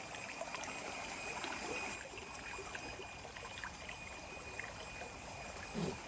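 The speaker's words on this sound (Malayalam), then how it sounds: "പുൽച്ചിക്കാട്ടിലെ വെള്ളം എന്താണ് ഗുളു ഗുളു ഗുളു ഗുളു വെള്ളം ഇങ്ങനെ ഒഴുകി വരുന്നതാ." Water in Pulchikkad flows and gurgles along a stream with a soft, steady rush. It stays faint and even throughout, with no voices over it.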